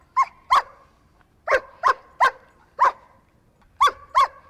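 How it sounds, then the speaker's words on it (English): German Shepherd on a leash barking in alert, mostly in quick pairs: about eight sharp, close, loud barks with short silent gaps between them. "So her bark right now is very prey driven, like an alert bark."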